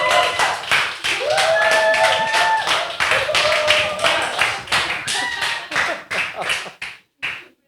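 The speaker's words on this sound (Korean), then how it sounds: "힘차게 환호의 함성과 함께 우리와 같은 박수로 환영하도록 하죠" An audience claps steadily and loudly, with shouts and whoops mixed in, to welcome a guest speaker at a church storytelling worship service. The applause thins into scattered claps before ending.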